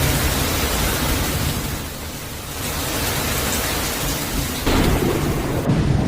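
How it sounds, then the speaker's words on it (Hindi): A heavy thunderstorm over Lucknow: loud, steady rain with deep rumbling thunder rolling through, a fresh crash breaking in near the end, no voices present. "बिजली कड़की है और इसकी आवाज भी आप सुन पा रहे हो।"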